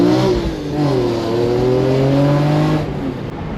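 A BMW E46 M3 engine fitted with a CSL airbox revs hard, its rising and falling tone climbing into the upper RPMs with a loud, sustained intake roar, close by, without talk, easing off near the end.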